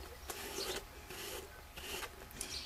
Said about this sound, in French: Donc, on passe un petit coup de brosse.